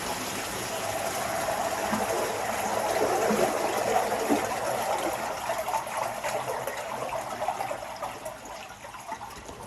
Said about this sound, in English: The fuel pump is starting to operate now to fill some water into the treadmill.